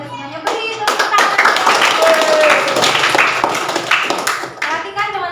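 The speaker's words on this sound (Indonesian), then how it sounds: "Beri tepuk tangan." A classroom of children claps for their classmates in a rhythmic burst of hand clapping lasting several seconds, close and loud, with a teacher's voice speaking at the start and end.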